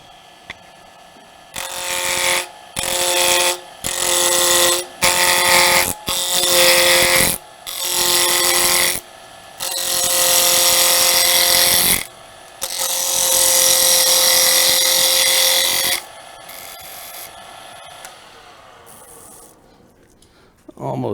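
Wood lathe turning a wooden wine glass stem, a loud motor hum broken by repeated rasping cuts in short bursts, then a longer steady stretch of cutting before the lathe winds down and quiets.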